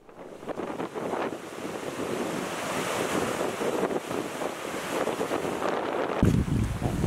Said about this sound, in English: We're taking a break because the wind's been fierce.